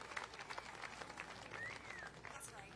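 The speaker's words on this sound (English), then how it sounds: "Give our finalists in the Bluegrass Band a round of applause." Audience applause for the bluegrass band finalists at a fiddlers' jamboree, a steady wash of clapping with some crowd voices and a faint whistle mixed in throughout.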